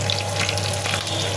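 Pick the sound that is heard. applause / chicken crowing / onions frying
onions frying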